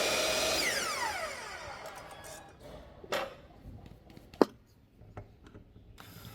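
A power drill bores pocket holes into wood for joining a desk skirt to the tabletop, first a rising whine that slows and fades, then a few short, sharp knocks and clunks nearby.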